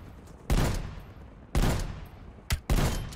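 Hand cannon fire in the shooter game Black Ops Cold War: four loud, sharp shots, with the last two close together, each ringing out with a long booming decay.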